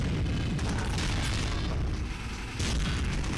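Loud, heavy cannon booms in the video game The Hulk roll together into a continuous rumbling barrage with no pauses.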